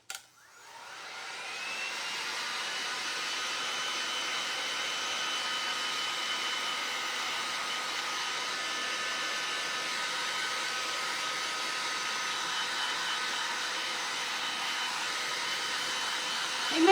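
A handheld dryer blows steadily on craft pieces for a beehive wall hanging, starting abruptly and holding a loud, even whooshing hum for the full length before cutting off.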